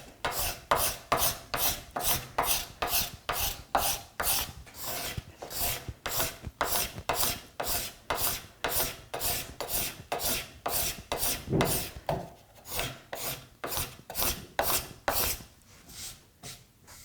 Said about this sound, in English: So not exactly the most sharp scraper, but it's good enough for this kind of roughing work.